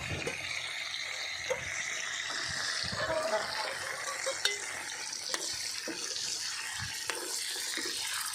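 Pork frying in a pan at a home kitchen, a dense continuous sizzle and crackle with scattered pops and utensil taps, close and fairly loud throughout.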